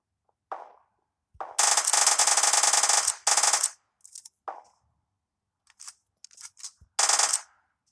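Video-game gunfire from a player camping the top of a stairwell: a short burst, then a sustained loud automatic volley, followed by scattered shorter bursts and single shots, one last sharp burst near the end.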